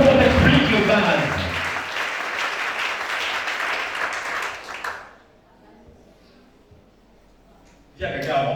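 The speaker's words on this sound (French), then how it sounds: "Acclamons Shana." A church congregation applauds and cheers for Shana during a service, a dense, loud wash of clapping and voices lasting about five seconds before falling silent, then another burst begins.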